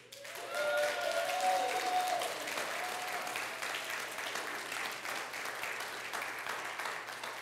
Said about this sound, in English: I just saw three of the kids that were VBS in the back that stood around and clapped up to him